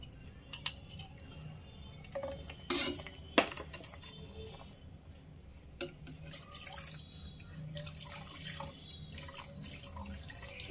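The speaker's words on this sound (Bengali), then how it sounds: "আমি অল্প অল্প করে দেব আর নাড়তে থাকবো" A spoon stirs milk and custard in a pot, giving quiet, scattered clinks and scrapes against the metal, with a few sharper taps among the soft, wet movement.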